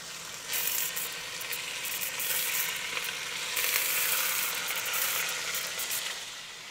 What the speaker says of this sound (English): I'm going to start browning up the beef.